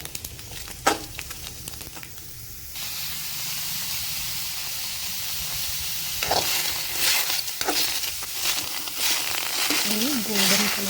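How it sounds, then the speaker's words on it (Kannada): Four chopped tomatoes frying in a pan after roasting peanuts, a steady sizzle and hiss with occasional stirring scrapes, and someone talking over part of it. "ಈಗ ಶೇಂಗಾ ಹುರಿದು ತೆಗೆದು ಅದ ಬಾಣಲಿಗೆ ನಾನು 4 ಟೊಮೆಟೊ ಕಾಯಿ ಹೆಚ್ಚಿಟ್ಕೊಂಡೀನಿ. ಅವನ್ನು ಹುರ್ಕೊಳಕತ್ತೀನಿ."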